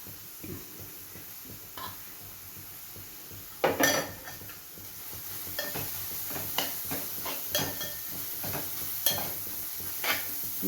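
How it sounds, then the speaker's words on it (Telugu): Grated carrot fries in ghee in a pan, a soft background sizzle broken by repeated metal spoon scrapes and clinks against the vessel as it is stirred, close and fairly quiet. "నేతిలో వేయిస్తున్నాను."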